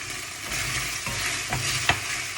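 Vegetables and meatballs stir-frying in a hot pan, a steady sizzle broken by a few scraping stirs of a spatula, close and fairly loud.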